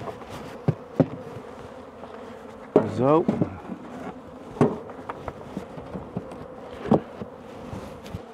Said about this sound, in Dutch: Ook nog meer bijen eraf.